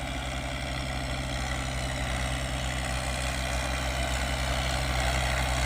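A Kubota M7040 tractor engine runs steadily at a rice field, a loud, constant low diesel drone with a fast rhythmic throb, close and alone without talk.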